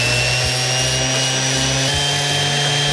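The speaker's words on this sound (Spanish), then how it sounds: "lo primero que vamos a hacer es quitar los rayones más profundos con lija 200 y con la lijadora rotorbital" A random orbital sander with 200-grit sandpaper takes deep scratches off handmade guitar picks. It gives a loud, steady motor whir with a constant hum throughout and no talking.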